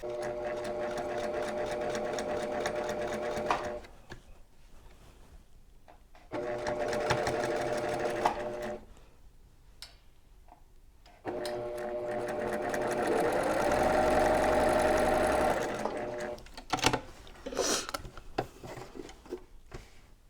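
Sewing machine stitching rows of a quilt block, running in steady bursts of rapid mechanical whirring, stopping and restarting several times, close and fairly loud with no talking.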